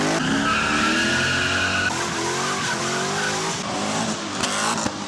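A drift car in a Polish drifting competition skids with sustained, loud tire squeal and engine roar, the squeal pitch shifting as the car slides, continuous for several seconds with no talk.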